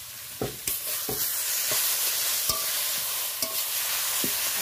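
Boiled, squeezed taro leaves (kochu shak) with salt are stirred in a pan to dry them, a steady close sizzle broken by several sharp scrapes and knocks of the spoon against the pan.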